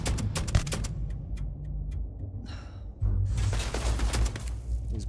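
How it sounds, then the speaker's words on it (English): Rapid gunfire in the sci-fi shooter Starfield as an enemy blind fires from cover, dense crackling shots over a low rumbling game backdrop, with a quieter lull midway before the firing swells again. "He's blind firing"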